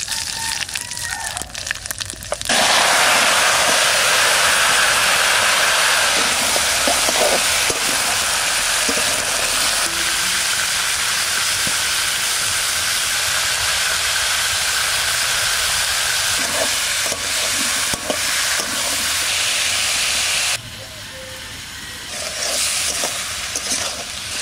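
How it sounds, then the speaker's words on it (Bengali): Spices tempering in hot oil for a sour Bengali spinach and fish dish, a loud sustained hiss and sizzle that bursts in suddenly, runs steadily, then dips briefly near the end. "এবার টকটা চাপাবো, একবারে ফোড়ন দিয়ে চাপা দেবো"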